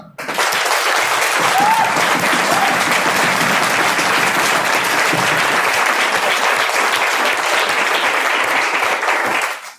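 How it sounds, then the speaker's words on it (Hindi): Loud, sustained applause from a large audience at a Hindi-language motivational training seminar, dense steady clapping filling nearly ten seconds before fading out at the end. "एक शानदार जोरदार तालियां।"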